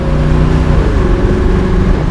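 A 1967 Chevrolet Camaro accelerates hard with its tires spinning, a loud, close, continuous engine roar with steady low rumble throughout and no talking.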